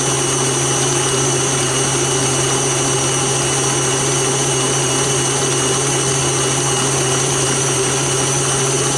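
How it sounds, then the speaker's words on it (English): An electric mixer whirs continuously and loudly as it churns cream into butter, a steady motor drone with no pauses. "Especially when you hear the mixer kind of wind down because it's getting thicker"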